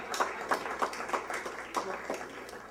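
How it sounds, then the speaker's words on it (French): Applause at a fundraising dinner for a botanical garden in Ouanaminthe, honouring Harold Saint-Louis. A small group claps in a sparse, uneven rhythm of separate hand claps at moderate volume. "Applaudissements très forts, s'il vous plaît, pour M. Harold Saint-Louis"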